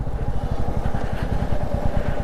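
Motorcycle engine thumping in a rapid, steady pulse while riding over a rough, broken road, close and fairly loud with a rattly, uneven texture.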